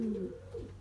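Belgian racing pigeons in a loft give a soft, low coo, one brief throaty call heard close and quiet.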